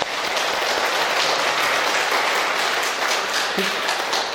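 A congregation at Sunday Mass claps to welcome visiting families, a dense, even burst of applause filling the church without a break and carrying no speech.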